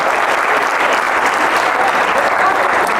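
A stand-up comedy audience claps steadily and loudly throughout, a dense wash of applause from a crowd with no talk over it.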